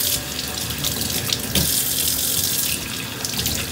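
Warm water runs steadily from a bathroom tap while makeup brushes are cleaned, a loud continuous splashing hiss that swells and shifts slightly as things move under the stream.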